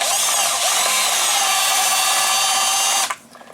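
Power drill driving a 5/8 inch black oval-headed screw into a plastic switch on a 12V cooler for a teardrop camper build, a loud steady high whine for about three seconds, then stopping abruptly into quiet handling noise.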